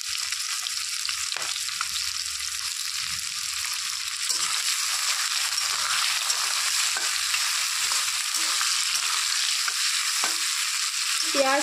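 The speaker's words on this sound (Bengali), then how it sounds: "দিয়ে দিচ্ছি কুচনো পেঁয়াজ। এখানে আমি বড় সাইজের 2টো পেঁয়াজ দিয়েছি।" Two large chopped onions frying in a pan while being stirred, for a young jackfruit and prawn dish: a loud, continuous close sizzle runs throughout, broken by soft scraping stir strokes and no voices.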